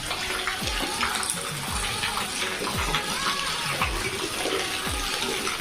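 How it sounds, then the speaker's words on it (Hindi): Heavy rain at a village home during the Hareli festival pours down in a dense, continuous hiss and splatter, with heavier drops and splashes landing close by and no talking. "देखो आज तो पूरा पानी गिरते हैं।"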